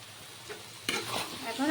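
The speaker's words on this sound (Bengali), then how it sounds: "আর একটু নেড়ে চেড়ে মশলার সাথে নুনটাকে মিশিয়ে" Spice masala with added salt fries in a pan for a mushroom masala, a faint sizzle broken by a few scraping stirs of a spoon, close but quiet, with no voices.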